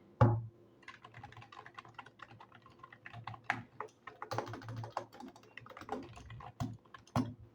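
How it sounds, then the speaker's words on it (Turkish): Fingers type on a MAGEGEE TS91 RGB non-mechanical keyboard, producing a rapid, uneven stream of close, crisp key clacks with a mechanical-like click and occasional louder strikes. "mekanik olmamasına rağmen böyle bir mekanik tuş sesi var arkadaşlar"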